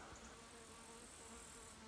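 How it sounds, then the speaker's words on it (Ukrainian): A fly buzzing near a log hive while checking whether a late bee swarm has settled, a faint steady drone with no talk. "а це якась муха причепилась"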